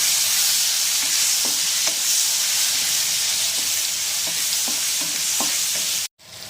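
Two small cut tomatoes fry in a pan for a vegetarian drumstick dish, with a loud, steady sizzling hiss dotted with light ticks and pops before it cuts off abruptly near the end.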